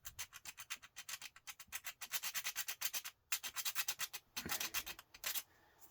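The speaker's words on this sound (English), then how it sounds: "maybe I'll give it a scrape and see" Scraping a circuit board with a tool to check for gold plating, a quiet close rhythmic rasping of repeated strokes with brief pauses.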